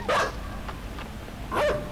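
A dog in the side-scrolling video game Inside gives two short, sharp barks about a second and a half apart, with a faint low game background between them.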